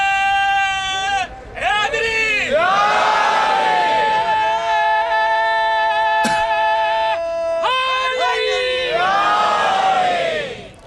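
A large crowd at a Shia majlis gathering loudly chants religious slogans in unison, voices rising in repeated swells with brief pauses between calls.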